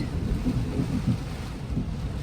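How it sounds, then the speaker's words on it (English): Thunder rumbles low and steady beneath rain drumming on a parked car late in the evening, a broad continuous roar with soft swells and no voices. "that was thunder"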